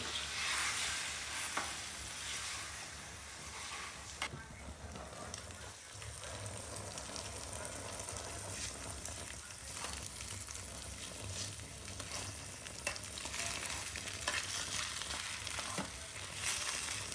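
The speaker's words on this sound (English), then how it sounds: "then we'll get the fillet on a pan" Salmon fillet frying in a pan at a camp cookout in a bothy, a steady close sizzle with crackling spits and occasional stirring or scraping, continuous with no talk over it.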